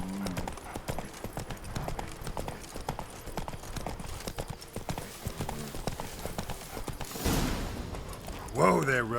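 Roach, the horse in The Witcher 3: Wild Hunt - Blood and Wine, trots with rapid, even hoofbeats throughout, while spoken voices run over the top and a brief rush of noise comes near the end.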